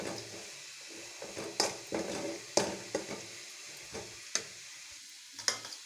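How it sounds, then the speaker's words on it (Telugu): Cashews and coconut fry in ghee in a pan for rava laddu: a soft, steady sizzle broken by irregular scraping and clinking as the mixture is stirred. "జీడిపప్పు కొబ్బరి వేయించుకుంటాను"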